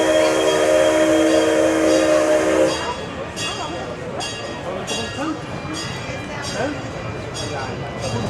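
A train drives past at the PortAventura World resort, beginning with a strong tonal horn-like sound that gives way to a rumbling, clattering pass with rhythmic bursts. No speech is evident.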